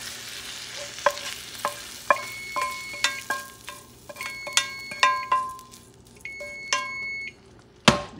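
Bacon with bean paste and onions stirred and fried in a pan for feijoada, with rhythmic scraping and clinking strokes of a spoon over a steady sizzle, close up, ending with a louder knock.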